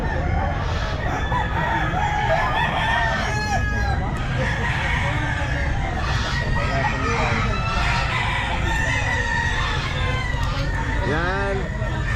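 White hatch gamefowl roosters crowing repeatedly at a pet market, loud overlapping crows and clucks from several birds close by, with people talking throughout.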